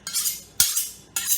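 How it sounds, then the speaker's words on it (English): A kitchen knife is drawn across a sharpener in three quick, close, harsh scraping strokes, each with a metallic hiss. "I gotta sharpen my knife."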